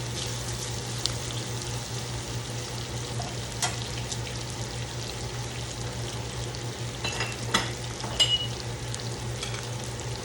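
Meat stir-frying with crab paste, fish sauce and ginger gives a steady, close sizzle with occasional clinks and scrapes of stirring throughout.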